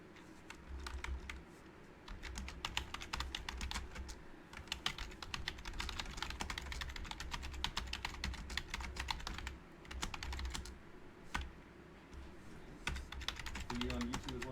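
Fingers typing on a computer keyboard in bursts of rapid, light key clicks with short pauses, close and fairly quiet over a low background hum.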